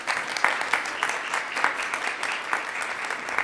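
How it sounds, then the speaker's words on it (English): Audience applause for two panelists at a medical symposium on SLC6A1 gene therapy, a modest crowd clapping with distinct individual hand claps audible in a steady, moderately loud patter. "So I want to give you two a huge round of applause again."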